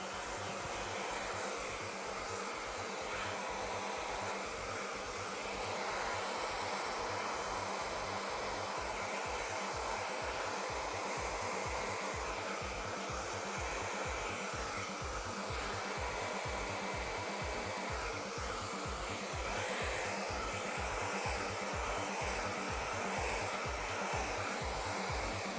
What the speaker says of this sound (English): So Charlotte, when you're using the Helios hairdryer, is there any tips on how to diffuse natural